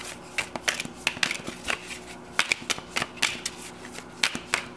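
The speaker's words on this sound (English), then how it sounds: "I'm going to flip this deck and see." A tarot deck is flipped and handled, producing a quick irregular run of crisp card flicks and riffles, close and moderately loud with no talking.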